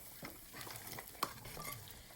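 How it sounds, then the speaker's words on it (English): Beef shin with bone marrow and knuckle boils in a pot for nihari, giving a faint, steady bubbling and simmering hiss with one sharp clink partway through. "There's our meat boiling away."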